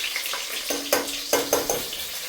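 Onions fry in a pan for a country chicken curry: a steady close sizzle and crackle, broken by several sharp scraping stirs, with no talking.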